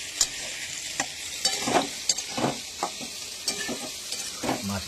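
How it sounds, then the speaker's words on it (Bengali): Potatoes and onions frying in hot oil for a Bengali fish curry, with a steady close sizzle and repeated scraping stirs of a spatula in the pan. "মাছের জন্য আলু ভেজে নিচ্ছে"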